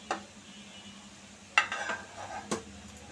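Chicken tikka kebabs frying in oil give a faint, steady sizzle, broken by three sharp utensil clinks against the pan.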